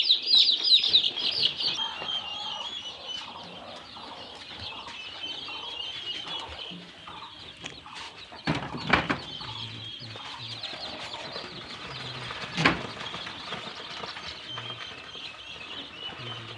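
Forty local chicken chicks cheep in a crowded crate, a constant shrill chorus of high peeps throughout, with a couple of brief knocks and rattles from the crate.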